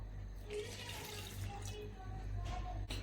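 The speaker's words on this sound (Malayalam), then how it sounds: "വെള്ളം ചേർത്ത് കൊടുക്കാം." Water pours steadily into a pot, a continuous splashing fill with a low hum underneath, fairly close.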